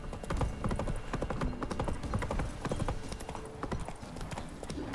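Roach, Geralt's horse in The Witcher 3, galloping with a steady, rapid clip-clop of hooves close up and fairly loud, running for the whole stretch with game ambience beneath it.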